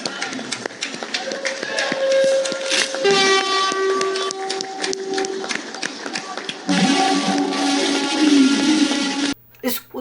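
A freight train runs on India's Western Dedicated Freight Corridor between New Gholvad and New Makarpura, with rumbling wagons, several loud horn blasts and rhythmic clatter close by, ending abruptly.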